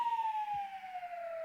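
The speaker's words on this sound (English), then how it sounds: "police siren." A police siren wails steadily, its pitch sliding slowly downward, fairly close and clear with no talking.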